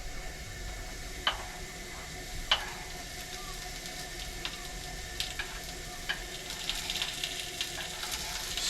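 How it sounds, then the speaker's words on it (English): Potatoes and onions frying in a pan inside a cabin, a soft, steady sizzle with a few sharp pops and ticks scattered throughout, no talking over it. "Sizzle, sizzle, sizzle."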